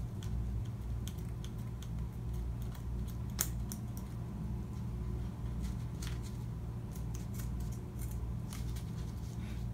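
Scissors snipping a crest pad used for hammertoe treatment, a series of small, faint clicking cuts spaced irregularly over a quiet, close background.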